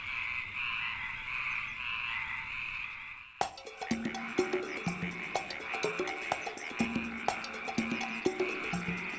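Frogs croaking in a film scene depicting the plague of frogs in Egypt, a dense chorus of rapid repeated croaks starting abruptly after a softer opening passage, loud and close throughout.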